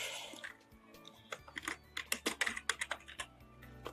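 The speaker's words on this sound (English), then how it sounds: "I'm trying to type some words on my keyboard" Fast clattering keystrokes on a computer keyboard, close and fairly quiet, building into a dense run of clicks over a few seconds with no voice.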